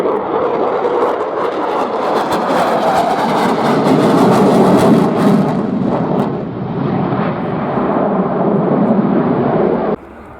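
A large aircraft making a slow speed pass at the RIAT airshow, a loud sustained jet roar with rumbling texture that stays heavy throughout before cutting down sharply near the end.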